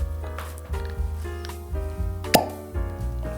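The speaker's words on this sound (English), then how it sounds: "Oh, that was a good cork pop." A cork pops out of a Corralejo Reposado tequila bottle with one brief, sharp pop amid close clinks and handling noises.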